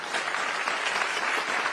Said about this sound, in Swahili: Situpigie presenters wetu makofi.